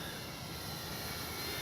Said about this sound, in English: That's a great flying plane.